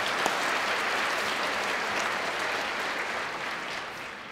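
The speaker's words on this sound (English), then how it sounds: "I'm going to applaud that one." A steady, dense round of audience applause at a science debate, even and sustained throughout with no talk over it, tapering only slightly at the end.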